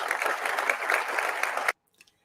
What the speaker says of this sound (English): his best applause so far has been from naming his son as a captain in the Air Force